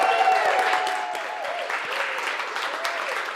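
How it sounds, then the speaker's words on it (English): Audience applause at a social purpose marketing awards event, a dense wash of clapping from the crowd that starts loud and eases slightly while staying steady throughout. "Give them a round of applause."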